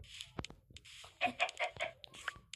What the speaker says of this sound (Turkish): Tavuk, tavuklarım size arkadaş getirdim.